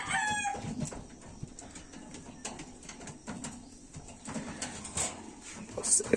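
Pigeons in a loft give soft cooing and rustling close by, with occasional wing flutters and a brief chirp, while a person talks quietly nearby.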